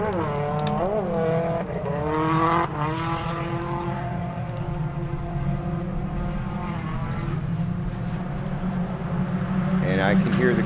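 Race cars in a qualifying race at Sebring approach turn 13, engines rising and falling with shifting pitch as they draw nearer, steady and loud under continuous commentary.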